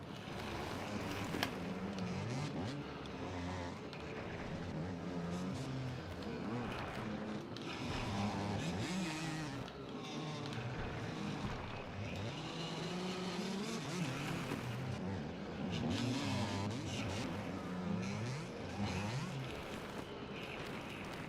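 Two-stroke dirt bike engine in a video game, a continuous buzzing, revving drone that rises and falls steadily throughout, loud and close, with occasional faint talk underneath.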